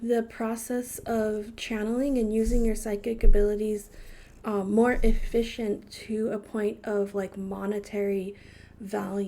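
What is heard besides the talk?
None of the usual background noises is heard.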